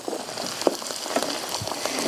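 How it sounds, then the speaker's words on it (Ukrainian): Mushroom filling for crucian carp frying in a pan over a live open fire, giving a steady, close crackling sizzle with scattered sharper pops and no talking. "Як гарно живий вогонь шкварчить і смажить нашу"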